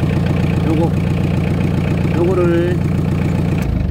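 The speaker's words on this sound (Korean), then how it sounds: "그러치를 밟고 시동을 거시는 겁니다. 자, 바로 걸렸죠." An old Daedong 35-horsepower tractor engine idles steadily after starting, a close, loud diesel chug throughout, with someone briefly talking over it.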